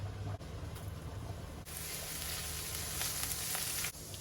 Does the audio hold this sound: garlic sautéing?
yes